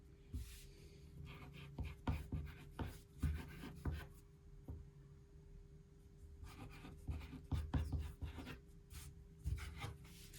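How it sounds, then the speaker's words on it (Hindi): A pen scratches and scrapes across fabric as measurements are written onto cut suit material, with quick rubbing strokes in bursts, close and quiet, separated by short pauses. "एक बार मैं लिख लेती हूँ।"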